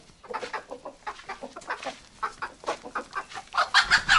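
Hens clucking and squawking in a busy, agitated chorus on a farm, with an angry rooster among them, the calls rising louder and denser toward the end.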